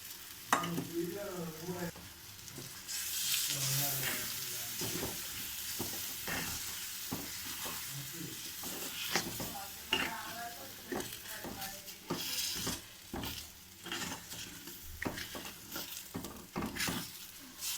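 Besan batter stirred with a spoon in a hot pan, rhythmic scraping strokes over a soft sizzling hiss, close and fairly quiet, with a faint voice briefly at the start.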